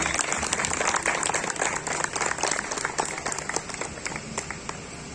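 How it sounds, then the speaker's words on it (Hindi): Audience clapping at a workshop, a brisk, dense patter of many hands with sharp individual claps standing out, fading slightly toward the end. "तालियां होनी चाहिए कराची वाली, चाइना वाली नहीं होनी चाहिए।"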